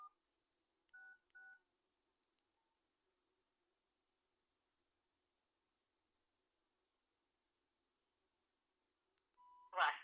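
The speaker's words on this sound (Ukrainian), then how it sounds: "Зараз наберу 466." A Nokia mobile phone's keypad plays three short dialing tones as 466 is entered, each a clean beep separated by pauses. After a long near-silence, a louder burst of a ringback tone and a voice follows.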